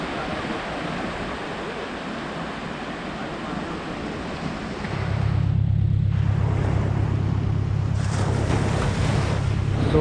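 Ocean waves rolling onto Baga beach in Goa, a steady broad surf roar with wind buffeting the microphone, growing louder and fuller midway and continuing without a break.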